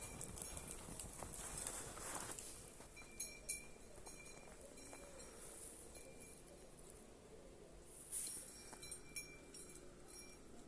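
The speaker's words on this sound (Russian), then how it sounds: "Если бы не колокольчики, я бы и не знала, что там бегают олени." Reindeer run through snow in an Arctic enclosure, their bells jingling faintly in light, scattered chimes as the soft footfalls pass, fairly distant and quiet.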